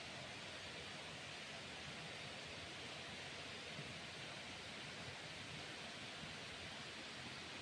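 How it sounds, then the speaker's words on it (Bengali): A river flows steadily past a jungle cottage at a riverside camp, a continuous broadband rushing and gurgling wash that stays even and close throughout with no voices. "কলকল করে নদী বয়ে যাচ্ছে, তার আওয়াজ খুব সুন্দর লাগছে"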